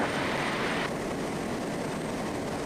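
A Twin Otter turboprop airplane flying over rural terrain gives a loud, steady engine roar and airflow hiss from inside the cabin, with a slight drop in tone partway through as power is reduced.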